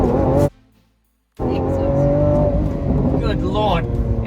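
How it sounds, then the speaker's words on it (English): A Lamborghini Aventador S accelerating hard under paddle shifts in Corsa mode, its loud engine roar dropping away in a brief gap near the start before surging back strongly and holding steady, with a faint squeal near the end. "I'm going to paddle shift it"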